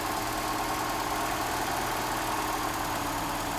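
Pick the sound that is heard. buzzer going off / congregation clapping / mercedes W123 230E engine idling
mercedes W123 230E engine idling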